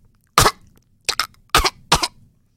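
A voice imitates a parrot coughing: four sharp, raspy coughs, one alone and then two quick pairs, loud and close against silence.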